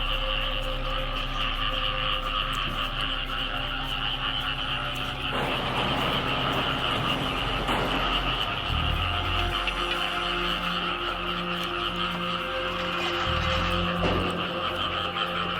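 Frogs croak steadily in a dense chorus for the whole stretch, with a faint engine-like drone underneath and no talking.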